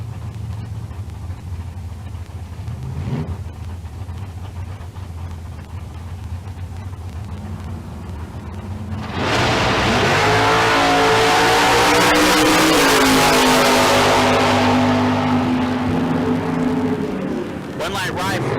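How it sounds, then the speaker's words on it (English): A Chevy II and a 1979 Camaro launch at Tucson Dragway in bracket racing, their engines building into a loud sustained roar with rising revs after a quieter idle stretch. An announcer talks over the first half. "Nathan Bradford, Kalispell, Montana, dialed 609 in the 79 Camaro"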